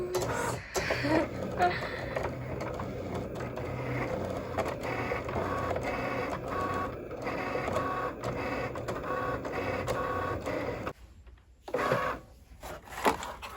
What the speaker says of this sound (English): The Cricut machine should do everything. There it goes.